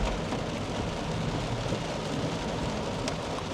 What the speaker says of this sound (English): with all the rain.